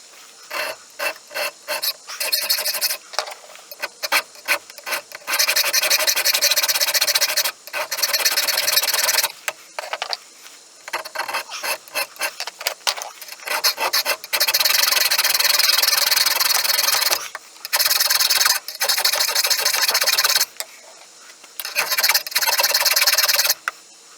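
A hand file rasps across a knife spine to cut decorative jimping, giving bursts of dry, rhythmic strokes, some short and choppy, others in long sustained runs, close and fairly loud with brief pauses.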